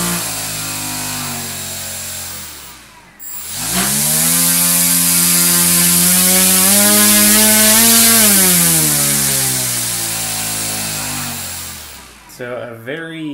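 An RCTimer brushless motor spins up and runs badly off balance, making a loud, close buzzing whine with strong vibration that climbs in pitch, holds, then eases down before cutting off.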